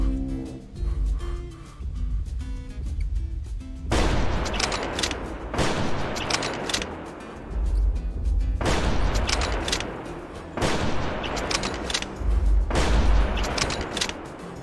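Bursts of rapid gunfire aimed at a dinosaur in the Prehistoric Hunt video game, loud repeated volleys with deep booming thuds, arriving in several distinct waves separated by short pauses over a low game soundtrack.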